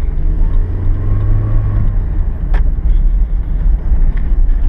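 A car drives through small French villages, recorded from a dashcam: a steady, close engine and road rumble runs throughout at an even level, with no one talking.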